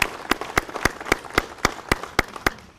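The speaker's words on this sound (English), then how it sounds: "Please give her a round of applause." Sparse, evenly spaced claps of roughly ten beats ring out at a street sign dedication honoring a late police officer, a thin round of applause from a small outdoor gathering at moderate distance with no talking.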